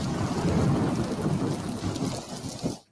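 Heavy rain pours steadily with deep rolling thunder rumbling underneath, loud and continuous, then fades out abruptly at the end.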